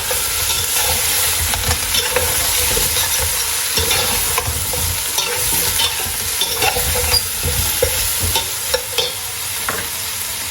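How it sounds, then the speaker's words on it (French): Garlic and ginger are stirred in a hot pan for a lamb colombo, with a steady loud sizzle running throughout. Soft scraping strokes from the spoon come through close by. "Je mélange le tout."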